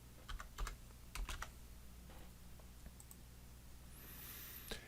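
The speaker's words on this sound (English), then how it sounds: "As you type numbers in here" Numbers typed on a computer keyboard in a few separate bursts of close, quiet keystrokes, followed by a faint sliding click and a brief tone near the end, in a quiet room.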